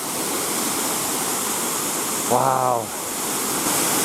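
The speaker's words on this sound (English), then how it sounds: "I'm up the top of the waterfall now." Steady broadband roar of a waterfall on the Jérusalem River, heard from the top of the falls, continuous and close, with a brief exclamation from a voice partway through.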